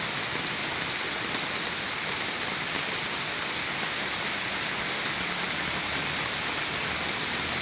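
Heavy rain pours down steadily on a morning of flooding in Marikina, a dense, loud, unbroken hiss of water striking surfaces with no pauses.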